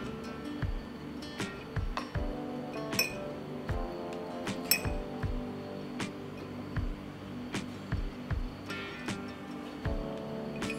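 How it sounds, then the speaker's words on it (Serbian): Whole apricots dropped one by one into clean, sterilised glass jars, each landing with a sharp glassy clink, a dozen or so knocks in an uneven rhythm, close and fairly loud, with no talk. "U čiste i sterilisane tegle ređat ćemo kajsije."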